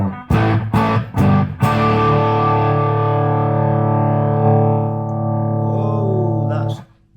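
Overdriven electric guitar through a hand-wired Burman Pro 501 combo amp, loud and close: a few quick strummed hits, then a big sustained chord ringing out for several seconds before it is cut off.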